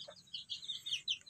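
Young chickens a few weeks to a month old cluck softly in a short burst of repeated chirpy calls, fairly faint and close, with no talking.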